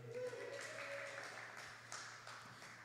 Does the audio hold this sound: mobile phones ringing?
no